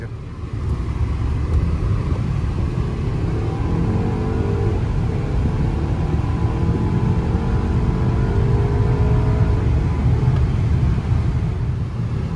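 A 2017 VW Passat SEL with the 1.8T TSI engine accelerating hard from a standstill toward 60, heard from inside the cabin as a loud, steady engine drone and road rumble that build gradually over several seconds.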